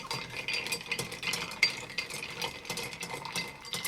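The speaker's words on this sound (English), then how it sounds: "Then we add some ice and we give it a stir." Bar spoon swirling ice in a mixing glass for a Manhattan cocktail, a steady soft rattling and clinking that runs continuously without any voices.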